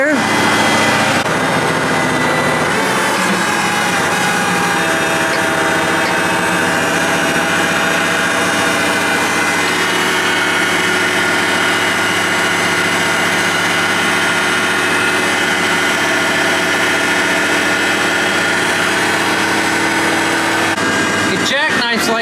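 A John Deere 9570RT track tractor is stuck and working in a mud pit. Its engine gives a loud, steady, close drone for the whole stretch, with a rough rumble underneath.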